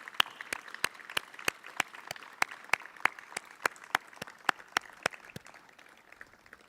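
At a town meeting, attendees stand and applaud. Crisp, evenly spaced claps ring out over a softer bed of general applause in a steady rhythm that gradually thins toward the end.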